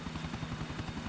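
Helicopter in the video game GTA IV with a steady rotor thump: rapid, even blade beats over a constant engine whine, close and loud, with no voices.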